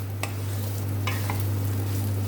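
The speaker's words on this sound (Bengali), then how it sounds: "এবার এটাকে ভালো করে আমি ভেজে নেব।" Boiled banana flower fries in a pan over full flame for a Bengali mochar ghonto, a constant close sizzle over a low steady hum, with a few brief clinks and stirring scrapes and no voices.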